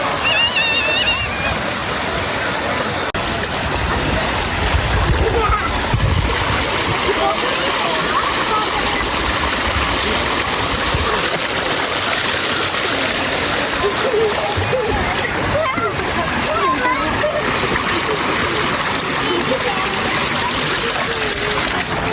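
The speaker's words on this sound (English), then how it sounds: "The kid can splash around, play in a gentle stream, and just cool off completely." A gentle stream at a water plaza in Arakawa Amusement Park, Tokyo, where children splash: steady flowing, trickling water fills the whole scene at close range, with a constant high hiss throughout.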